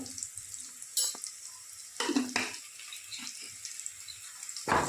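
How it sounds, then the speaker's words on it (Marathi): Turmeric, chili powder and spices frying in a pan for masale bhat, giving soft sizzling and stirring with a few brief louder scrapes. The sounds are close, and nobody speaks. "थोडंसं त्याला फ्राय करूया."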